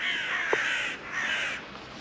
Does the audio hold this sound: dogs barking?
no